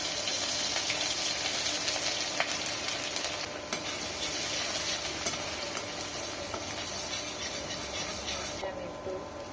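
Broccoli, carrot and cauliflower frying with chopped ginger and garlic for Chinese vegetables, a dense, steady hiss of sizzling oil with occasional light clicks of stirring, fairly close and unbroken.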